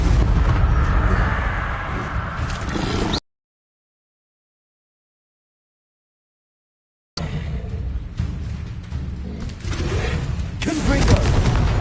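Fiery Confringo spell explosions in Hogwarts Legacy, a dense, loud run of booming blasts and crackling impacts that fills the opening seconds, then cuts out in silence before the barrage resumes just as heavily.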